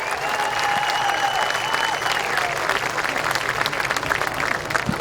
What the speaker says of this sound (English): How about giving this guy right here a big round of applause, John Chapman, our new track owner